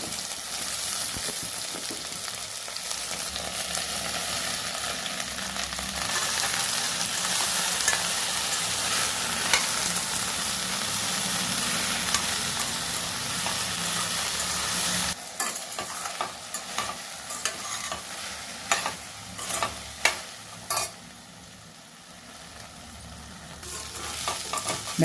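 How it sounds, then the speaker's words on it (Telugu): Cut okra pieces frying in hot oil in a kadai, a continuous loud sizzle for most of the stretch, then broken by repeated stirring scrapes and clatter toward the end. "ఇప్పుడు కట్ చేసుకున్న బెండకాయ ముక్కలు దీంట్లో కడాయిలో వేసి వేయించాలి."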